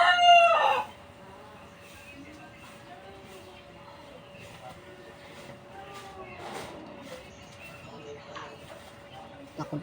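A rooster crows loudly and close at the very start, a short burst with clucking, followed by quieter farmyard sounds and faint later calls, with a steady hum in the background.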